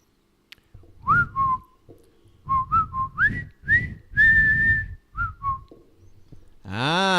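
Someone whistles the marching theme from The Bridge on the River Kwai, a clear, close melody of bright phrases with short gaps between them, alone and loud throughout.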